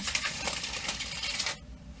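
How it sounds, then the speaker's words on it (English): Large tarot cards are shuffled in a crisp, rapid riffling flutter that stops abruptly just before the end, leaving quiet room tone. "I also really like how big the cards are and the sound of the shuffle."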